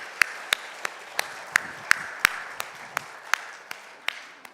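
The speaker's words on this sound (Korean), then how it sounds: "우리 다시 한번 격려의 박수 주시기 바랍니다." A church congregation applauds during a Sunday morning worship service, with a steady wash of clapping across the room and sharper individual claps that stand out in a fairly even rhythm.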